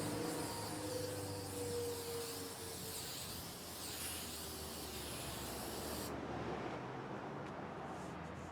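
A spray can applies another coat onto a repair, producing a soft, continuous hiss that carries on steadily for about eight seconds at low volume, with no talking.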